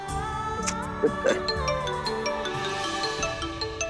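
A steady electronic phone ringtone melody repeats throughout, with layered tones over a low background hum.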